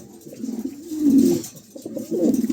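A pair of beauty pigeons cooing nearby, several low, rolling coos rising and falling in a slow rhythm, fairly loud and close, with no talking.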